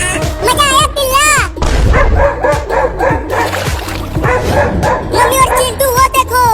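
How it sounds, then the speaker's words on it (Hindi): Cartoon dogs bark and yip excitedly in quick bursts while chasing a cat, loud and close, with whimpers and other noise mixed in. "मम्मी और चिंटू वो देखो, वो दोनों कुत्ते उस बिल्ली को पकड़ने की कोशिश कर रहे हैं।"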